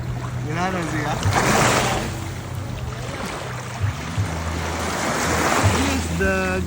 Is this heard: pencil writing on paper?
no